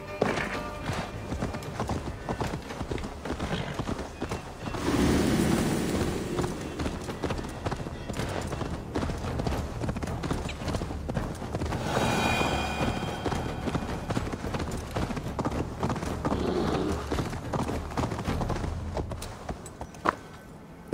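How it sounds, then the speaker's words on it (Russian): Horse hooves clip-clop in the Assassin's Creed Valhalla video game, a continuous rhythmic stream of hoofbeats over a busy in-game soundscape, moderately loud and steady throughout. "Блин, Эйвор, классно слезаешь с лошади."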